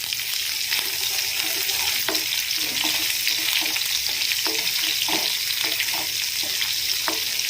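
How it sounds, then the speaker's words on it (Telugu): Chopped onion and green chillies fry in oil for a tomato and amaranth leaf dish, giving a loud, continuous hissing sizzle with occasional faint stirring taps underneath. "ఆనియన్ అనేది మంచిగా ఫ్రై అవుతుంది తొందరగా"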